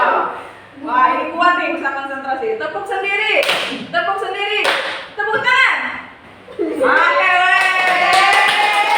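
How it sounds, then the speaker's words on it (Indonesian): A group of people claps hands in a concentration clapping game during a school group counselling session, with bursts of clapping in time with a spoken leader's calls. "Tepuk sendiri. Tepuk sendiri. Tepuk ke kanan."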